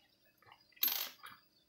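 One soft, quiet metallic clink of a coin being handled, a brief bright tap with a fainter touch just after, in an otherwise hushed room.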